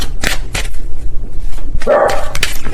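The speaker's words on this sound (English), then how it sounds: "please ignore my dogs in the background. They're trying to see through the blinds at what's going on outside." Indoor dogs give a few sharp barks in short bursts, with a longer, louder bark near the end, close by in a room.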